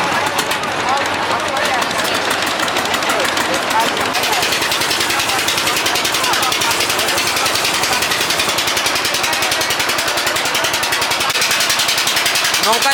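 A boat engine runs steadily throughout on a river crossing near the Khan Jahan Ali bridge in Bagerhat, with a loud, rapid chugging rhythm and a constant near drone.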